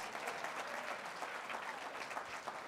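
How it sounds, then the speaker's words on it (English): A crowd applauding at a State of the City address, a continuous, even wash of many hands clapping at a moderate distance. "She gets a huge round of applause."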